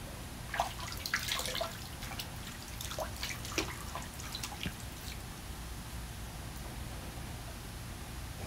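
Water trickles and drips as a straight razor and shaving brush are rinsed during a shave, with small splashes and taps in the first few seconds, then a quieter, faint wet background.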